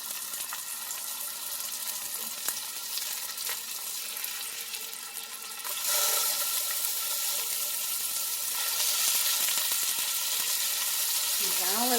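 Pork burger patties sizzle in a pan just after being flipped, a steady broadband frying hiss that grows louder midway and carries on continuously with faint kitchen clatter.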